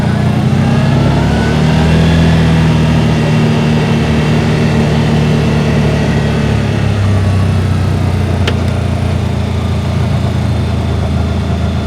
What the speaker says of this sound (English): So I can easily take off with this machine and move that around.